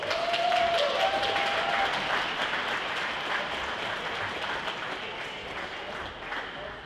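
A crowd at the opening of an ice rink in Boxmeer applauds a dance group, giving dense, sustained clapping that stays loud and steady before easing slightly toward the end, with a brief whistle-like tone early on.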